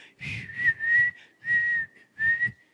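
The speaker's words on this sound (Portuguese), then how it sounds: "Ele não para de assoviar o dia inteiro. Ele aprendeu a assoviar." A young boy whistles loudly in four steady, sustained notes separated by brief pauses, each note ringing clearly and up close with a breathy edge.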